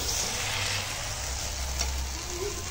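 Goat lung stir-fried in a pan, a continuous close sizzle with faint scraping of the stirring.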